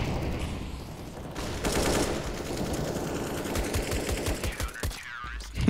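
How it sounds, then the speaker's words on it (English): Fast, continuous Tec-9 pistol fire in CS:GO, a loud dense rattle of closely spaced shots that runs almost the whole time and cuts off near the end, followed by a brief metallic ring. "are Tech Nines back?"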